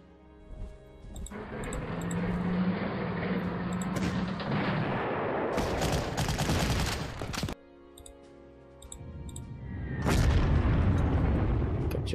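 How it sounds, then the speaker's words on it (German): Katyusha rocket artillery fires in the Panzer Corps war game, a long rolling barrage of launches and booms that swells loudly, pauses briefly, then surges again with sharp cracking blasts. "Katyusha."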